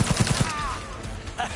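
Gunfire in the game Cyberpunk 2077: a quick run of four or five sharp shots at the start, then a busier wash of combat noise with faint voices and effects underneath.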